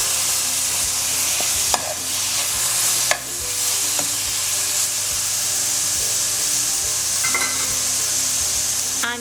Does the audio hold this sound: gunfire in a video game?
no